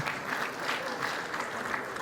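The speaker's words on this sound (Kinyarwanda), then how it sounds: "Mwabihaye amashyi wa?" Audience applause in a lively gathering, a steady dense patter of many hands clapping throughout, fairly close and even, with no talk over it.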